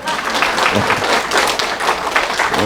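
A church congregation at an Easter service claps together, a steady, fairly loud wash of applause lasting a few seconds without a break.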